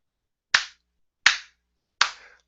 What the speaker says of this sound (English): Golf clap, Stephen.